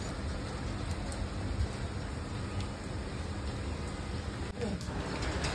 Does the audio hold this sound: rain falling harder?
yes